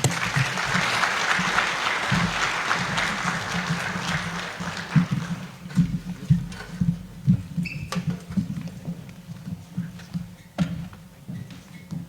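Audience applause for a school superintendent at a school district gathering, broad and steady for the first five seconds before thinning into scattered claps and a few muffled low voices.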